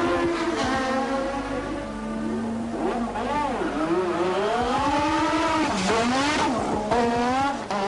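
A 1987 Formula 1 car rejoins the race after a pit stop at the Australian Grand Prix in Adelaide, its high-revving engine screaming and sweeping through the gears as it accelerates, close and loud.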